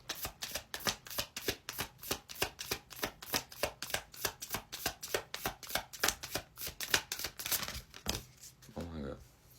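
Tarot cards are riffled and shuffled in a fast, even series of crisp flicks, close up and steady for several seconds before a brief pause and a soft tap at the end.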